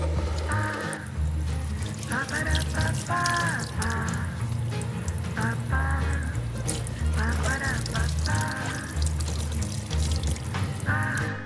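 Tangerine peels being washed in vinegar water, with a steady splash and pour of water running throughout over a continuous background of voice-like tones.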